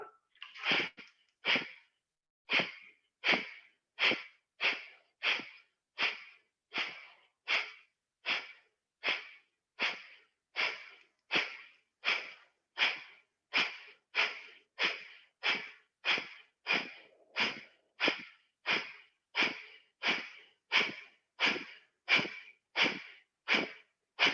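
Forceful abdominal stroke breathing during a pranayama practice session: a long steady series of sharp, rapid nasal exhalations, roughly one or two per second, loud and close, with no talking over it.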